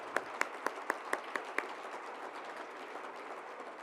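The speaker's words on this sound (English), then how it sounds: "let's give them all another round of applause" An audience at a university distinguished faculty awards event gives the honorees a round of applause. Several sharp, close claps ring out at first, then a softer, diffuse patter of clapping continues from the crowd.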